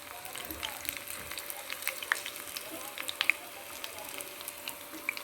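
Crushed garlic cloves frying in hot oil while yam pickle is made, producing a soft, steady sizzle with scattered small crackles and pops.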